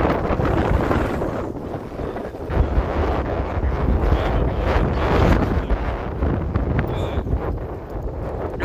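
Strong wind buffets the microphone on a small fishing boat out on the water, a loud, constant rumbling roar with gusty surges, while people talk faintly underneath.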